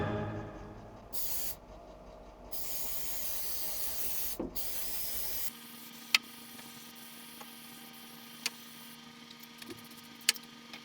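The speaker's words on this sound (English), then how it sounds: "I want to spray this down and clean off some of this old oil and grease and dirt that's collected." Cleaner sprays in short hissing bursts onto greasy, oily lawn mower parts, then gives way to a quiet background with a few sharp ticks and clicks.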